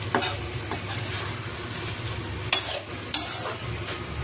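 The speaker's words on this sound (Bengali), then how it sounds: "ভাজা মশলা এবার দেওয়া হয়ে গেছে, এবার ভালো করে কষিয়ে নেবো।" Ground fried spices for an egg curry are sautéed in a pan, giving a soft steady sizzle with a few sharp scraping and clinking strokes of a spatula against the metal, fairly quiet with no talk.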